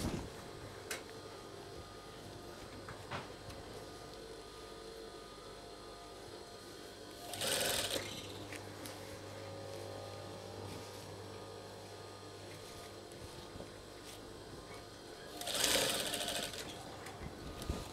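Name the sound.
sewing machine stitching a tablecloth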